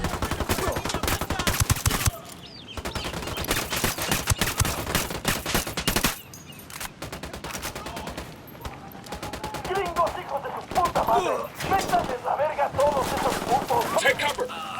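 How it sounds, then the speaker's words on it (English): Ghost Recon Wildlands firefight, with sustained automatic gunfire rattling in long bursts, breaking off, then resuming with lighter shots under game sounds and tense background music. "Opening fire."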